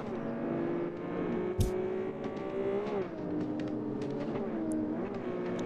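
A Porsche engine in a racing game revs and shifts, its pitch rising and dropping through gear changes with a brief sharp thump midway, loud and steady throughout, no talk.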